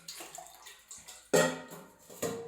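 Tap water runs into a container to be carried out for watering plants. The quiet, intermittent splashing and gurgling comes in uneven bursts, with one louder gush midway, and nobody talks.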